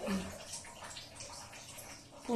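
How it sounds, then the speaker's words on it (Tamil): A liquid pudding mixture is poured evenly over a layer of bread for an Arabian pudding, a soft, steady watery pour at low volume, close by. "நல்லா ஊற்றிக்கோங்க. சமமா ஊற்றிக்கோங்க."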